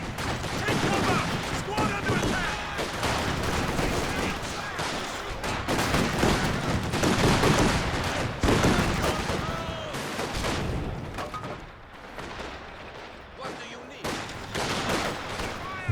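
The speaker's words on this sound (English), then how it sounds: "Flak's getting involved though." Flak gun fire from a Company of Heroes 2 battle, a dense and continuous run of rapid shots and booms mixed with other battlefield gunfire, with a voice talking over it.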